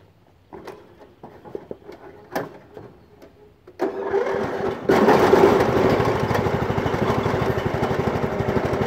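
A 1974 John Deere 140 garden tractor engine cranks and starts after some knocks and handling noises, then runs at a loud, steady idle close by.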